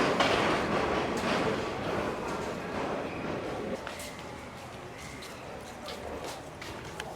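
Yangon's Circular Train in Myanmar rolls along its rails with a steady rumble and scattered clacks and rattles, heard close, with voices murmuring in the background.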